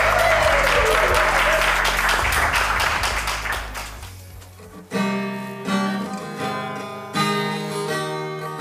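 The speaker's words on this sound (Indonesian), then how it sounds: "Kasih tepuk tangan dong buat" Loud crowd applause and cheering fill the first half and fade out, then soft piano-like music enters with steady notes and no talk over it.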